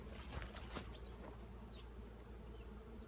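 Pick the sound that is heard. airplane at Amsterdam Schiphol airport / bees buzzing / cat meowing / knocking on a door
bees buzzing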